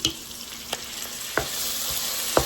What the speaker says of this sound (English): they do need a little bit of fat to fry and saute in